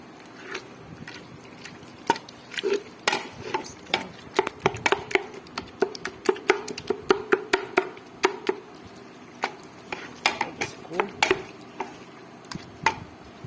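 Sarson ka saag being stirred and mashed in a pot with yogurt mixed in, a busy run of close, sharp scrapes and clinks from a spoon against the metal, irregular and steady throughout.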